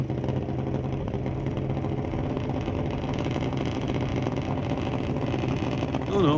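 Junior drag race cars run at Mission Raceway Park, their engines making a loud, steady roar that holds for the whole stretch with no clear pauses.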